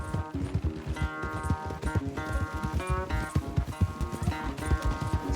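Horses race at full gallop in the Western video game Red Dead Redemption 2, with rapid pounding hoofbeats under loud sustained music throughout.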